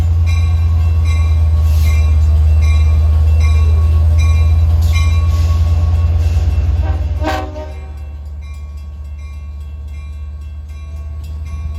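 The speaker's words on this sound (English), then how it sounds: "DE30AC number 422, which has one of the loudest K5LL horns." DE30AC locomotive No. 422 sounding its loud K5LL horn on the Montauk Branch: one long, powerful chord held for about seven seconds over a heavy engine rumble, which drones on after the horn cuts off.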